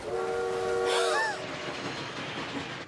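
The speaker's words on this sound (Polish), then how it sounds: "O, pociąg jest bliżej niż myślałem." Animated cartoon train on railway tracks at Adventure Bay, its horn blaring in sustained chords that bend and fade, then a rumbling rolling noise as it draws nearer, fairly loud with no talk over it.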